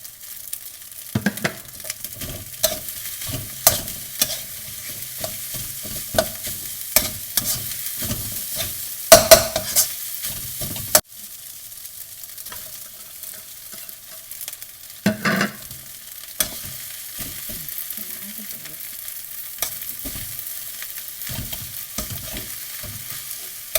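Thai fried rice is stir-fried in a pan in a home kitchen, with a close, loud sizzle and repeated scraping and clattering strokes of the spatula, briefly quieter midway, and no voices.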